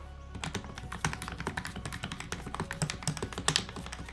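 Rapid, uneven keystrokes clatter on a KG919 mechanical keyboard, a steady burst of close, crisp clicks and taps with occasional louder thocks, no voices.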